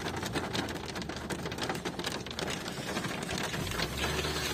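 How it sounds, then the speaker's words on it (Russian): Hail pelting the roof and body of a car heard from inside the vehicle, a dense continuous patter of hard drops at close range, steady with no voices. "град пошел"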